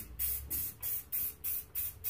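Aerosol spray paint can hissing onto a firearm from a short distance, in six steady bursts of roughly a quarter to half a second each, separated by brief pauses, with no talking.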